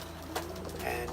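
Racing pigeons cooing softly in a loft, a couple of low murmuring coos rising over a faint background hum.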